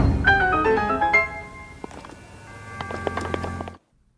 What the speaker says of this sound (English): Legend of Zelda, Link opening a locked door in a dungeon.